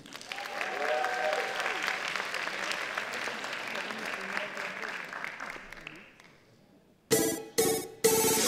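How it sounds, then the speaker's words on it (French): Loud audience applause and cheering for a Luffy cosplayer at a cosplay contest, sustained for about six seconds before fading, followed by a few short bursts of noise near the end. "Donc un tonnerre d'applaudissements pour Luffy."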